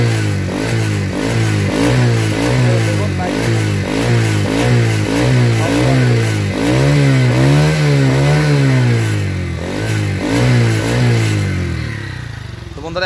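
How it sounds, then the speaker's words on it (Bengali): A 2019 second-hand motorcycle engine runs close by, revving in a steady series of rising and falling bursts with one longer, higher rev near the middle before settling back. "এখন দেখবো হচ্ছে বাইকটির সাউন্ড কোয়ালিটি এবং পারফরমেন্স"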